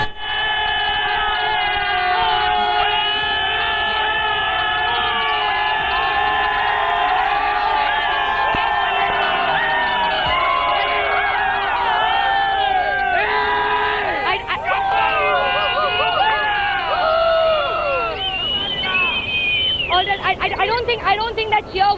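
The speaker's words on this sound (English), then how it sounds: "I don't think that cheer was for me" A large crowd cheers and roars loudly and continuously in response to a Rajinikanth film dialogue, with a dense babble of voices and whoops swelling throughout.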